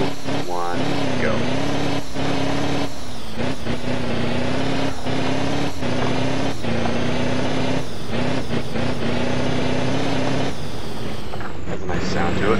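A Scania R Topline 6x2 semi truck engine in the game Rigs of Rods revs and climbs steadily through a gear, droning loud and close with a strong harmonic growl, briefly dipping between shifts.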